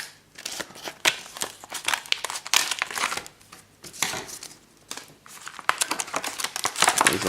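Crackling, crinkling plastic wrap being torn from Pokémon card booster packs in several close bursts, with brief pauses between the tears.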